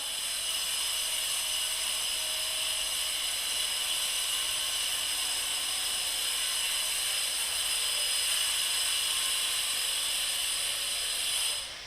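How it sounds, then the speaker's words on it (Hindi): Drilling nearby during an indoor lecture gives a steady, high whining hiss that runs unbroken and at an even level for about twelve seconds, with no voices over it. "अच्छा थोड़ी ड्रिलिंग चल रही है, कोई बात नहीं, थोड़ी देर की बात है"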